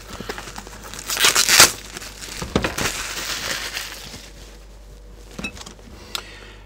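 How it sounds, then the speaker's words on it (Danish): Plastic wrapping torn and crinkled off a TP-Link WPA4220 powerline wifi extender, with a loud burst of ripping and crumpling early on, then quieter rustles and a few sharp crackles, close by with no talking. "Jeg tror lige, at jeg tager lige og... og river plastikken af."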